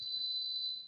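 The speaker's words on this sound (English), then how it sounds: "Somebody set my alarm off." A steady high-pitched electronic alarm tone sounding continuously at moderate volume, a single unbroken beep in an otherwise quiet room with no talking.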